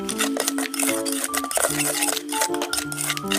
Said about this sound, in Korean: 섞어줍니다